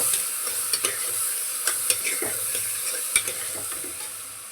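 Turmeric powder sautés in a pan for mutton curry, a bright, continuous sizzle with scattered sharp clicks and scrapes of a stirring spoon against the metal, close and unaccompanied by speech.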